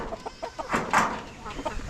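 Chickens clucking in short bursts close by, with a louder squawk near the middle and low background noise throughout.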